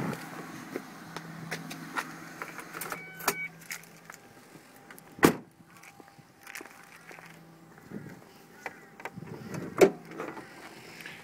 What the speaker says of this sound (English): I will just pop the bonnet and show you just underneath the engine bay, Kath.